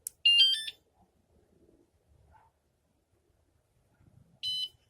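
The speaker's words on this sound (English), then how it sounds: "The second beep indicates that it is armed and ready." A Wsdcam wireless motorcycle alarm gives two short, bright electronic beep bursts as it arms, one at the start and one near the end, with faint handling noise between them.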